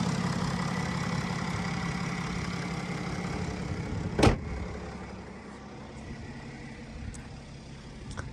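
A 2012 BMW X5 E70 40d with the N57 twin-turbo diesel idles steadily, a low even rumble with a single sharp knock midway, heard alone without voices.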